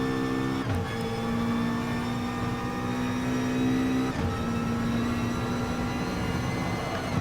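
Racing cars in GT Sport at the Alsace Village circuit, a steady droning engine whine holding pitch with brief shifts, the pack running close together, loud and continuous without talk.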